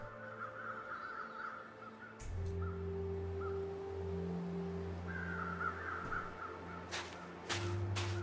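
Birds calling in the wilderness of The Long Dark video game, repeated crow-like caws in short bursts over a steady low drone and wind, with a few sharp clicks near the end.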